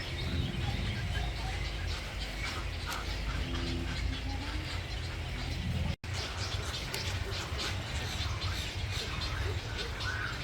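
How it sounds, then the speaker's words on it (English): Many nesting birds call together at a busy rookery during breeding season, a dense, continuous chorus of overlapping squawks and chatter that fills the whole clip at close range. "These are all of the different nesting birds that call the rookery home this time of year."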